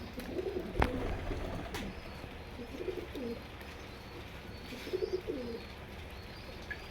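Low, soft coos of Teddy pigeons repeat in short phrases over a constant background hum, with a couple of sharp clicks near the start.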